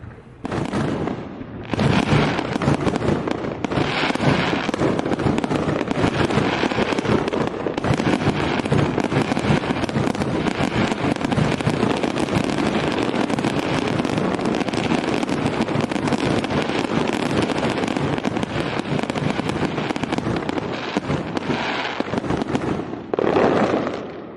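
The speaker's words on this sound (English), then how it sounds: "Here's some more fireworks." Fireworks over cruise ships, a loud nonstop barrage of crackling bursts and booms that keeps going with few pauses and no voices.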